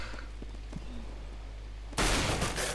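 Gunfire in Counter-Strike: Global Offensive: quiet game ambience with a few faint clicks, then a sudden loud burst of shots near the end.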